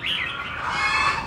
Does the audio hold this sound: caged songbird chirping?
yes